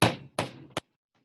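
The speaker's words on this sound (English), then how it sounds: "And then I'm going to hammer" Hammer strikes driving a nail into a small wooden toy boat: three sharp knocks, the first two ringing out briefly, the third quick and clipped, close and loud with silence after.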